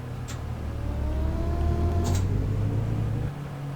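Electric motor of a ZiU 10 trolleybus in a driving simulator game whines with a rising pitch as it accelerates, a steady close drone with a couple of faint clicks and no talking.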